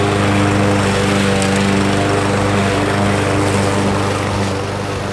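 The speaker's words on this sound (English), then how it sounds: "I'm gonna mow a little section right here." A Murray lawn mower fitted with a mulching blade drones steadily up close while cutting grass, its loud, even rumble holding for several seconds with no voices.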